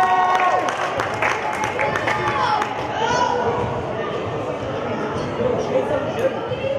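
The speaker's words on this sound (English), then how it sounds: "Let's give them a nice round of applause" Applause for the runners-up from the Bronx at a boys' varsity middle school basketball final, a dense steady wash of clapping and crowd chatter filling the gym, with voices talking over it.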